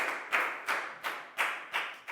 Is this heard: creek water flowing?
no